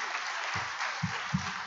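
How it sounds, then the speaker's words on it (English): Warm applause for a presenter at a scouting gathering in the Asia-Pacific region, a steady clapping crowd heard somewhat distantly, with a few low thumps near the mic partway through. "Please give him a warm round of applause again."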